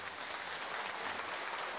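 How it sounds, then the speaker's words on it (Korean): A studio audience at a 1983 Korean live broadcast reuniting separated families bursts into congratulatory applause. The clapping is steady and dense, heard faintly and from a distance. "축하의 박수를 좀 예. 쳐주세요."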